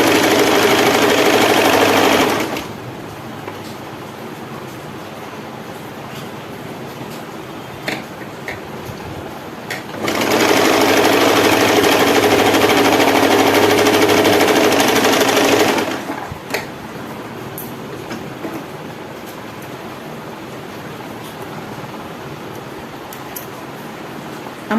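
A sewing machine stitching elastic into the waistband of palazzo pants runs in two steady bursts, a short one at the start and a longer one in the middle, with quiet handling pauses between and no talk.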